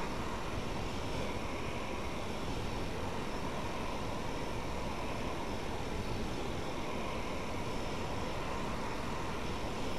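A Eurofighter Typhoon jet in Flight Simulator X taxiing briskly, a steady, even broadband engine roar with a high whine, continuous and unchanging throughout, no voices.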